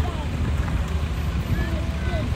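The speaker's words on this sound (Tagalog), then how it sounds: "ang weather today ay sobrang hangin" Steady gusty wind buffets the microphone in a continuous low roar in Istanbul, Turkey, with a voice speaking faintly under it.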